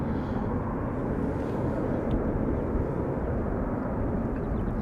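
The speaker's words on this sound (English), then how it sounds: "Slowest retracting landing gear in the game, the A330 and the A340s." A steady, loud roar from an Airbus A330 at Schiphol Airport fills the whole stretch, a broad, even jet drone with no pauses and no voices over it.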